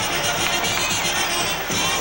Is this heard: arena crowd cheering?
yes